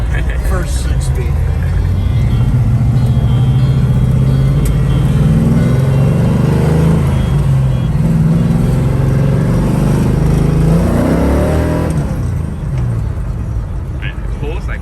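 A 1966 Chevrolet Chevelle with a six-speed manual gearbox accelerating, a deep engine drone rising in pitch through the gear and easing off near the end, heard from inside under continuous conversation.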